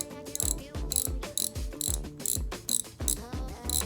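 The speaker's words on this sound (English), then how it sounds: "Let's hear the drag on it." A Daiwa Ballistic MQ LT spinning reel's drag is pulled in quick repeated bursts, a bright ratcheting buzz that stops and starts about eight times, close and with no talking.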